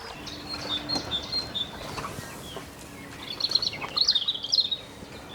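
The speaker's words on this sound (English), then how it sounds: "listen to the birds" Birds chirp and sing at a moderate distance beside the Caldon Canal, with short bright calls early on and a denser burst of twittering near the end, against quiet outdoor background.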